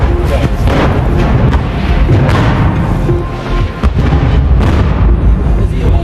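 Russian artillery shelling near Kherson on flat, open ground, heard as a dense, loud rumble of blasts and booms with sharp bursts cutting through, continuous throughout.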